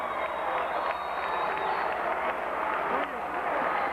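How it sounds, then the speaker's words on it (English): A basketball crowd at a 1998 high school district final between Oak Ridge and Clinton reacts to a foul with a steady, dense roar of voices and scattered shouts, loud and continuous throughout. "you can tell by the crowd he's fouled"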